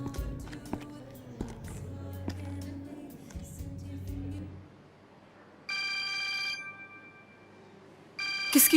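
An incoming call on a mobile phone: after footsteps and movement sounds fade, a steady electronic ringtone plays for several seconds, pauses, then starts again.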